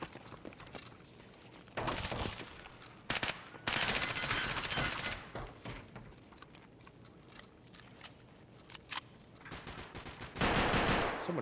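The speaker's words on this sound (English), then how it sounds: "Someone's shooting down there." Video-game gunfire in an online shooter: rapid automatic bursts ring out in several clusters, some loud and near, others fainter and farther off, with short single shots between them.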